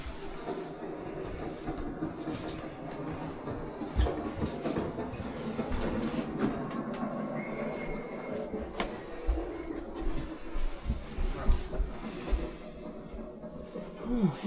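Steady low rumble of a sleeping car rolling along tracks, with faint rattles and clunks throughout and occasional movement noises nearby.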